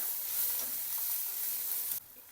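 Turmeric, salt and coriander frying in a pan with green chillies for a buttermilk kadhi, a soft close hiss of sizzling that drops abruptly quieter near the end, with no talking.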